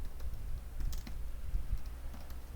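Quiet, close typing on a computer keyboard while coding a C program, a run of irregular soft key clicks with no talk.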